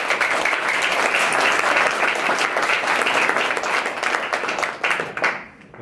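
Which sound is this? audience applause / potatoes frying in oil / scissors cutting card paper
audience applause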